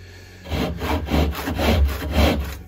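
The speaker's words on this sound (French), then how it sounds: "Je vais prendre une scie japonaise." A Japanese hand saw cutting through wood, about five steady back-and-forth strokes in an even rhythm, close and clear with no talking.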